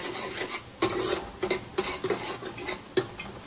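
Coriander and ginger-garlic paste are stirred and sautéed in oil, giving a soft ongoing rasp of a spoon scraping the pan with several sharper clinks of metal, close and moderately loud with no talking.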